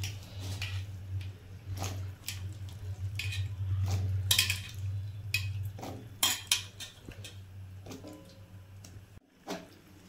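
Jackfruit added to a pan with turmeric and mustard oil, giving soft irregular clatters and utensil scrapes against the pan with a low steady hum underneath.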